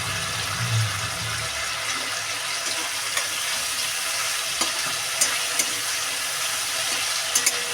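Blanched spinach frying in a pan with oil gives a steady, loud hiss that fills the whole stretch, with a few faint clicks and scrapes toward the end, up close and without talk.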